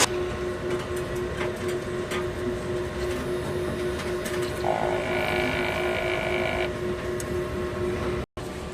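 A printer runs its head-cleaning cycle near its capping station, giving a steady mechanical hum with faint clicks and a brief rising motor whir in the middle before the whole cycle stops abruptly near the end.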